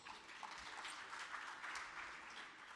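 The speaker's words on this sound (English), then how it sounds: "Shall we again give the panel a round of applause?" An audience claps for a panel at an investment forum, a soft, distant spread of applause that holds steady for a few seconds.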